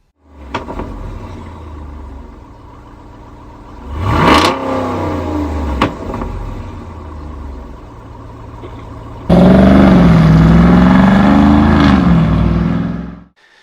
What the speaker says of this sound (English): replace it with the MRT pipe, and it provides a noticeable improvement of exhaust note and sound upon acceleration and upon startup.